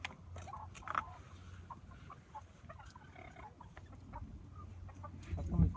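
A rooster in a poultry pen at a county fair clucks in short, soft bursts amid a busy background of other birds and crowd noise, with a louder cluck near the end.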